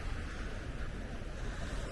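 Ocean waves at Rye Harbor beach in New Hampshire make a steady, continuous wash of surf close by, with wind rumbling across the microphone and no voices throughout.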